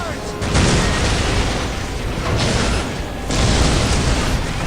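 Heavy artillery explosions in the Dawn of War strategy game, a dense, continuous roar of booming blasts with swells of louder bursts, heard close and loud with no voices.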